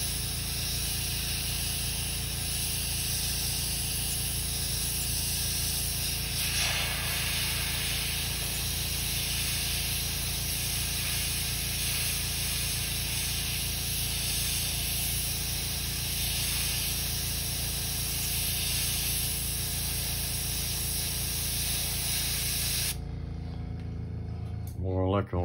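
An airbrush sprays paint onto a custom crankbait fishing lure, a steady close hiss of compressed air that holds for a long stretch before cutting off, with faint talk in the background.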